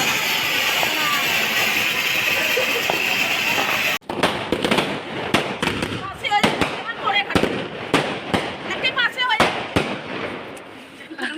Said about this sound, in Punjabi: ਸਕਾਈ ਸ਼ਾਟ ਨੂੰ ਲਾਈ ਅੱਗ